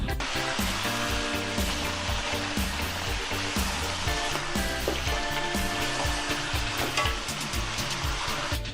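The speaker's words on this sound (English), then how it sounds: "Fry mutton for 5 minutes with this spice." Two kilograms of mutton fry with spices in a pan for biryani, a loud, dense sizzle close up, with recurring stirring scrapes and pulsing bubbling that continues throughout without speech.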